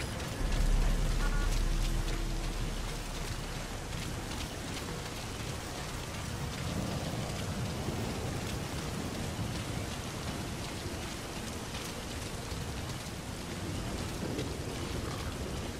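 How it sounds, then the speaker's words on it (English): Rainfall in the video game Metal Gear Solid 5 on PS4, a steady wash of rain hiss and patter that holds evenly throughout, moderately loud and heard with no talking. "Sound of rainfall should help to mask your footsteps."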